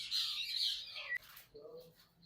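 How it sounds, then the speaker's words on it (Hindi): Yellow ringneck parakeets at a bird market in Multan, a loud, close squawking call followed by quieter chirps, with faint voices in the background. "Yellow ring neck top class quality के बर्ड्स ये मौजूद हैं।"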